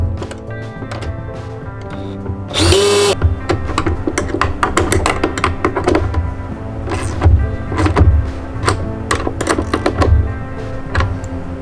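A power tool runs a 10 millimeter bolt about 2 inches long into a hub, with a brief high whine near the start and repeated short clicking, ratcheting bursts. The sound is close and moderately loud, with no speech.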